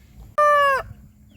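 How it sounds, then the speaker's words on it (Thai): A rooster crows once at a chicken coop: a single loud, close, drawn-out call of about half a second that ends abruptly, with faint low background noise before and after. "นี่มีขันด้วยมันจะเล่นเราซะแล้ว"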